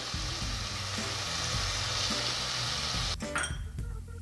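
A curry mixture with curry powder and house seasoning browns in a pan for Jamaican chicken curry, sizzling loudly and steadily up close with stirring knocks, then a brief clatter near the end.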